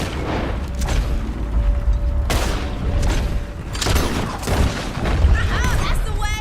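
Red Dead Redemption 2 gunfire bursts out amid a loud, busy shootout, with heavy booming shots scattered irregularly over constant game noise and shouted voices.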